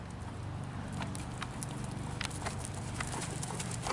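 Steady rhythmic clip-clop of a horse's hooves at the trot while a rider posts without stirrups in a riding school, close and continuous over a low hum of background noise.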